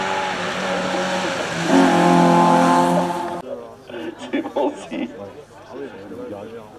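A Group A touring race car engine roars past up close at the Mont-Dore hill climb, its pitch climbing as it passes, then fades while a commentator talks over the lingering motor noise.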